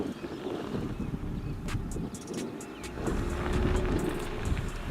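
Land Rover Defender SUV crawling slowly over a hill obstacle at low revs, a low continuous engine rumble with gravel crunching and scattered knocks, steady and fairly close, with some wind buffeting.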